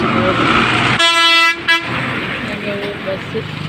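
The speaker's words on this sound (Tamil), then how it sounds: "எங்கள் ஊர் பஸ்ஸு போகுது." A village bus in rural Tamil Nadu sounds a loud, close horn blast lasting about half a second, followed by a shorter toot, over a steady engine rumble and background chatter.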